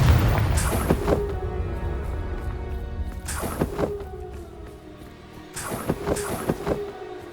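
Confringo blasting spells in Hogwarts Legacy strike three times at even intervals, each a sharp crackling burst with a ringing tonal tail that fades before the next, set against a low rumbling game ambience.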